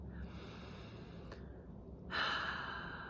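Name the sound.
deep breath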